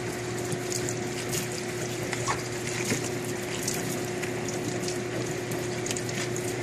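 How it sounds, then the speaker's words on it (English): Water rinses residue off a cleaned battery at a washing station, a constant spray and running-water wash mixed with a steady mechanical hum and occasional faint clicks, close and without speech. "Now he's rinsing all the residue off."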